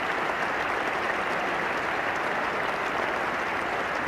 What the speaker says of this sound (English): the applause for successful players by teammates, and especially for the captain